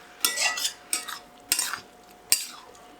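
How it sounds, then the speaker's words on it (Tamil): Chopped tomatoes sauté in a pan for chicken noodles and are stirred with a utensil in four distinct scraping strokes over a soft sizzle, with no talking. "இந்த தக்காளி நல்லா வதங்கட்டும்."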